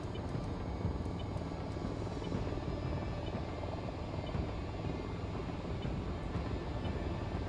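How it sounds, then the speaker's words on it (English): AH-94 attack helicopters in the VTOL VR flight game, a steady dense rotor roar with low thumping that holds at constant loudness throughout, no voices. "Helicopters just appeared out of nowhere. Those are AH-94s."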